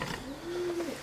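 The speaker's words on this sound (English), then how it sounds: "Can hear a pigeon as well." A single pigeon gives a soft, drawn-out coo inside an abandoned family farmhouse, fairly faint against the quiet room.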